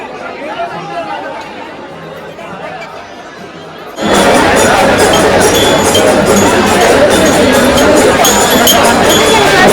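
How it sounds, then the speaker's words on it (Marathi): Large crowd chattering at Tulja Bhavani temple in Tuljapur; a murmur of many voices swells sharply partway through into a loud, dense hubbub with faint clinks. "भरपूर गर्दी आहे आज"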